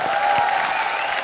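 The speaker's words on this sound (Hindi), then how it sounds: "एक बार अनीता मैम के लिए जोरदार तालियां।" Brief burst of studio audience applause on a late-night Hindi comedy family show, a dense continuous clapping wash.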